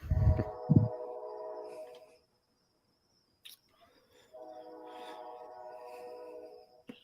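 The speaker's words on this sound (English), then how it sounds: "Who's got the train going by?" A train passing at a distance: a faint tonal horn-like drone that sounds, fades out, then returns and holds steady, with low rumble beneath and a brief burst of noise up front.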